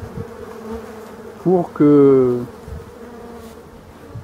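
Black bees buzz at their hive in two short, loud bursts, a brief one and then a longer droning one, over a quiet background, with a voice speaking briefly.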